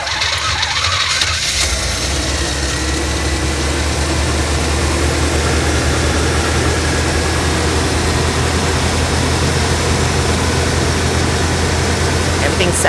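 A car engine catches and settles into a steady, loud idle, a continuous low rumble that runs unbroken from start to finish with no talk over it.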